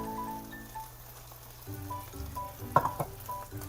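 Savory pancake batter sizzling in a hot pan, a soft steady frying crackle rising as the batter hits the surface, with faint background tones.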